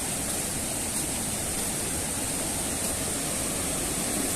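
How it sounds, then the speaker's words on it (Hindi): Water rushing steadily through a drain channel in Yingkiong town, Arunachal Pradesh, a dense continuous loud hiss close by with no break. "ये देखिए ये बीच से एक नाला जाता है,"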